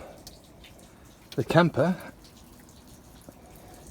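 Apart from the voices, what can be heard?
rainwater leaking and dripping through camper vent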